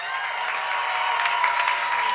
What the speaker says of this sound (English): please give it up for Marina